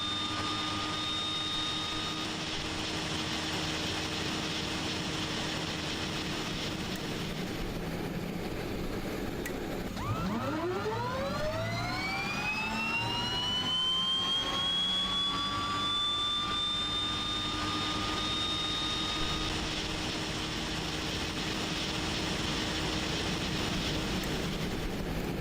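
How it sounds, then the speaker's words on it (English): Twin-engine turboprop of an Aerosoft Twin Otter starting up in a flight simulator game, a turbine whine rising steadily in pitch over a constant engine and cockpit hum, loud and continuous with no talking. "However, let's start the engines here."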